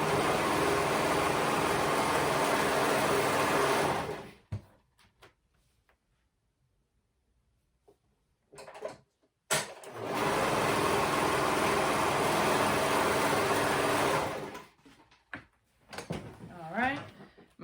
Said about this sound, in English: And I'm gonna sew those shoulders together.